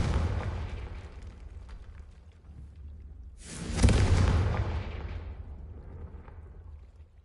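A Confringo spell blast in Hogwarts Legacy goes off as one loud, close explosion with a deep rumbling boom, rising out of low background game ambience before slowly decaying into a lingering roar.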